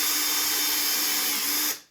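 A power drill running at a steady high whine, close and loud, as it drives Star torque screws into a wooden door, then spinning down and stopping near the end.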